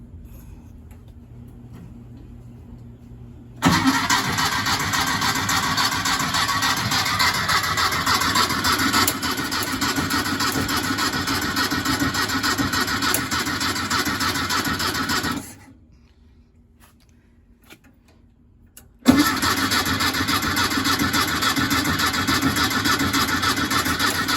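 Engine of a 1968 VW Bus cranking steadily without catching, a loud continuous churning that runs about eleven seconds, pauses briefly, then resumes and continues to the end, with no voices.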